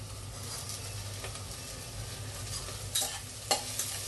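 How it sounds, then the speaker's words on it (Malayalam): Chopped green chillies frying with onions in a pan for mutton kurma, a soft steady sizzle with a few sharp stirring scrapes near the end, and no voices. "നമുക്കിപ്പോൾ കണ്ട പച്ചമുളക് അരിഞ്ഞത് ഇട്ട് കൊടുക്കാം."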